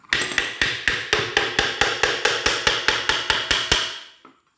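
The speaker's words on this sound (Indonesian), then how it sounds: "Kita tetap menggunakan palu dikarenakan ini manual." A hammer strikes the left crankcase of a Honda GL motorcycle engine during manual disassembly. About sixteen sharp metallic blows land in a steady, rapid rhythm, loud and close, then fade out after a final lighter tap.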